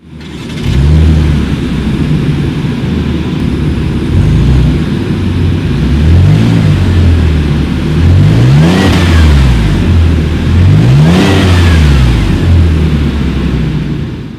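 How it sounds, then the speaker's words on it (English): A 2020 Chevrolet Traverse SUV's exhaust revs up twice in sharp climbs, engine roaring loud and close over a steady idle rumble, no voices. "here is that exhaust clip"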